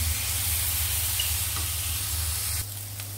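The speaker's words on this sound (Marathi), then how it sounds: "आनी हिचो कॅबेज घालता, फ्राय करता." Shredded cabbage stir-fried in a hot pan for veg spring rolls, a steady loud sizzle and hiss with a low hum underneath, dropping abruptly near the end, with no talking.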